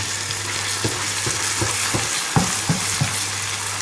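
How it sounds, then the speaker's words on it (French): A crêpe cooks on a Krampouz griddle with a steady, close, loud sizzle, broken by a few soft scraping or spreading strokes in a slow, irregular rhythm, no voices. "C'est en train de cuire."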